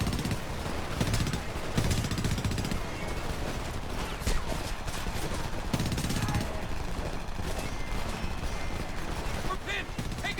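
Enemy machine gunners fire in a Homefront battle, rapid sustained bursts of automatic gunfire rattling on and off amid other combat noise, loud and close throughout.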